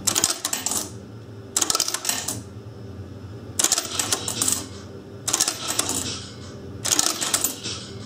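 In the OMSI 2 bus simulator game, coins clatter out of a ticket machine's change dispenser in five separate metallic bursts, each about half a second long and spaced roughly a second and a half apart, over a low steady hum.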